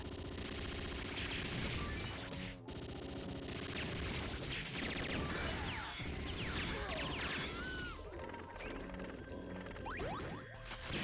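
Heavy machine gun fire in the Metal Slug 6 arcade game, loud and continuous rapid bursts mixed with explosions, crashes and whooshing game effects, dense throughout.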